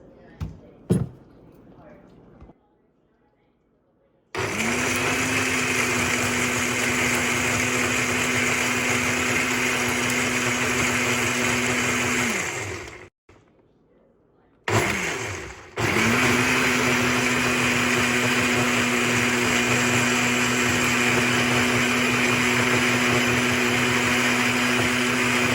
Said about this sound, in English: And now I'm gonna put some almond juice in there to blend it.